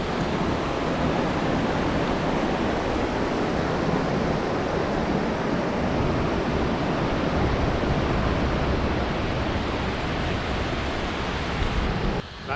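Snoqualmie Falls, heard from the lower viewpoint, pours with a constant, dense roar of falling water that holds steady and loud for the whole stretch before cutting off abruptly.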